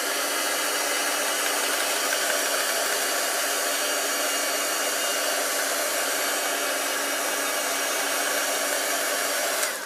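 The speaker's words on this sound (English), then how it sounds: "I'm going to run the dryer on this really quickly" A hair dryer blows steadily and loudly on a junk journal tag, a continuous broadband whoosh that holds even for the whole stretch before cutting off at the end, with no talking.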